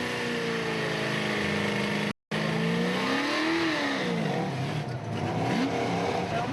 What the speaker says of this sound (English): I hear a few motorcycles in the distance